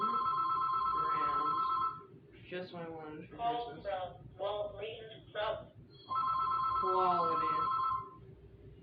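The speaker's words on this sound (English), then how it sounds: "That is my phone." A telephone rings loudly in repeating bursts, with two long ringing stretches at the start and near the end, while a person talks between and over the rings.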